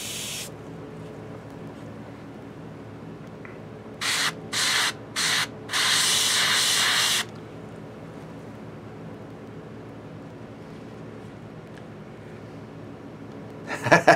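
An airbrush spraying paint on a Reaper Hill Giant Lowland Warrior miniature gives three quick hissing bursts and then one longer spray of a second or so, over a faint steady room hum.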